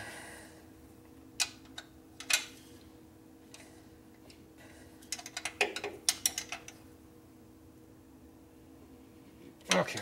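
Ratchet wrench tightening a bolt during assembly of a 1967 Harley-Davidson 74ci Shovelhead FLH, heard as scattered short clicking bursts with quiet gaps in between and a louder final burst near the end.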